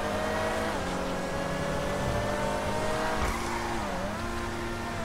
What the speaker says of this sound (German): Ein schöner Rennwagen ist das hier.